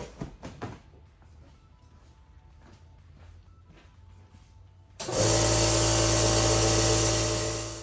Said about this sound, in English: I forgot to turn the air compressor on.